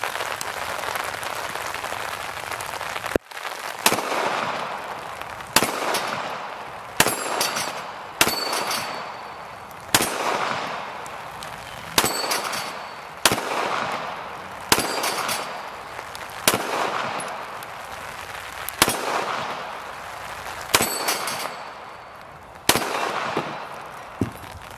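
Canik TP9SF pistol shots fired at a steel plate rack outdoors, about a dozen sharp loud reports spaced roughly a second or two apart, with no talking between them.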